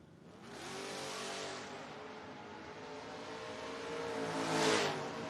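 Two footbrake drag cars, a Mustang and a Dart, roar down the track side by side in a loud revving surge that swells, eases, then peaks again as they pass at a distance, with no speech.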